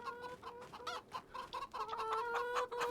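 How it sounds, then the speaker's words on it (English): Chickens cluck in Farming Simulator 25 at a farm with a newly bought chicken house: a dense, overlapping run of short clucks and squawks from several birds, close and steady throughout, with no talk. "Yes, chickens."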